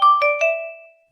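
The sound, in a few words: Xiaomi phone ringtone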